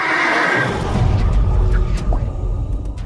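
A black horse whinnies loudly up close, its neigh rising over a heavy low rumble and the scuff of hooves, with no voices present.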